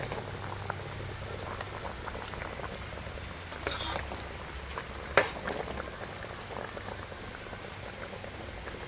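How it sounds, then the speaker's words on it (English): Sweet mango achar simmers in a covered-bound pot with oil infused with pepper and garlic, giving a soft, steady bubbling and faint popping throughout, quiet and close, with one brief clack midway and no talking. "And then we have our sweet mango cooking here"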